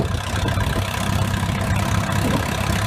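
A Minneapolis Moline G6 propane tractor engine runs steadily outdoors in cool Illinois weather, a loud, continuous low rumbling idle close by with no talk.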